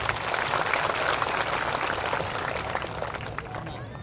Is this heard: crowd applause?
yes